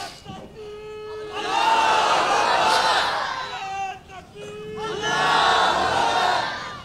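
At a political rally at Azad Chowk, a large crowd roars a slogan in unison in two long surging waves after a leader's Nara-e-Takbir call, the massed shouting loud and sustained with a brief dip between.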